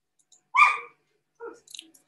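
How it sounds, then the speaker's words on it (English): Therese the dog barks once, sharp and fairly close, then gives a softer short yelp and a few faint trailing sounds in an otherwise quiet room. "Sorry about my dog, Therese barking."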